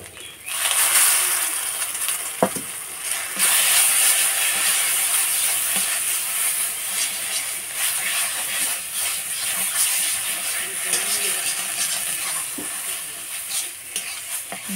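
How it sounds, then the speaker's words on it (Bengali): Cumin paste fries with taro in a pan, a continuous close sizzle and hiss, with scraping stirs and a few sharp knocks of the spatula throughout. "জিরেটা দিয়ে ভালো করে ভাজা হবে"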